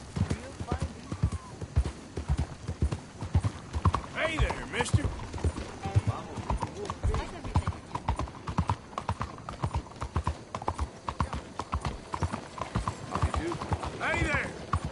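A horse's hooves clip-clop in a steady rhythm on a hard surface, close by and continuous throughout, with a voice calling out a greeting over the hoofbeats.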